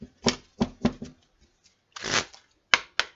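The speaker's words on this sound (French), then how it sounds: "on va tirer une carte de la sagesse universelle" Oracle cards being shuffled by hand before one is drawn: several sharp riffled bursts, a longer rustling shuffle, then two crisp taps, close and alone without talk.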